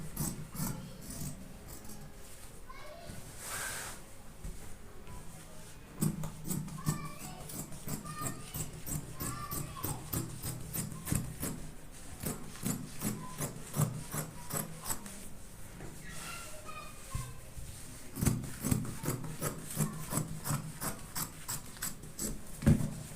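Ankara fabric laid on the fold is cut out for a turban cap, giving a long run of crisp, rhythmic rasping snips close by, quiet and steady with short pauses.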